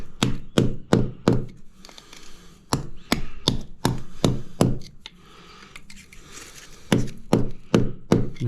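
Sharp, repeated chopping blows cut a channel into concrete while tiling a front entrance, loud close thunks in uneven bursts with brief pauses between groups.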